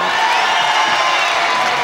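A large crowd at a 1970s–80s UK professional wrestling bout roars and cheers steadily, a dense continuous wash of voices and whoops filling the hall, loud and sustained.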